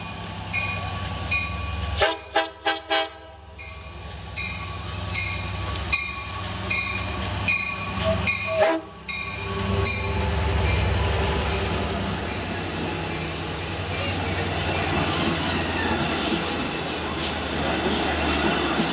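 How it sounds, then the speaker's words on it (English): A Long Island Rail Road train passes at Westhampton, sounding several blasts of its horn before a long, loud rumble of wheels and cars rolling by close up, with some voices nearby. "This is Long Island Railroad train 9708"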